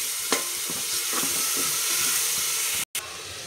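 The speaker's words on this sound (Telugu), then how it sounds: "ఈ పేస్ట్ని దీనిలో వేసుకొని బాగా వేగనిచ్చాలి" Ginger, shallot and coconut paste frying in a pan for a country chicken curry, a steady loud sizzle with light stirring scrapes and a brief cut near the end.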